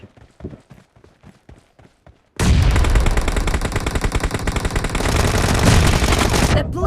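A shooter video game: a few quick separate shots, then a loud continuous stream of automatic gunfire that carries on to the end.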